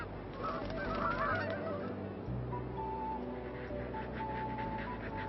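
Aleutian Canada geese honk repeatedly on an Alaskan island wildlife refuge, a busy flock chorus of overlapping calls at moderate distance over steady wind and ambient noise.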